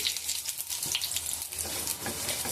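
Cumin seeds crackle and sizzle in hot oil for an ulu (elephant foot yam) dalna, a steady close frying hiss with faint stirring, no voices.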